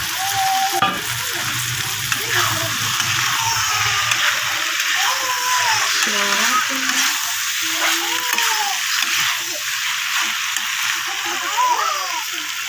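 Soybean chunks and potatoes frying with spices in a pan, a dense steady sizzle close by under a voice that speaks intermittently throughout.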